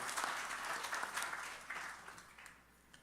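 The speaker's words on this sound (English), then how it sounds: "Let's show appreciation in a round of applause for Pandit Bhoj." Round of applause from an audience at a Hindu religious gathering, a Ramayana recitation event, soft and somewhat distant, steady at first then tapering off.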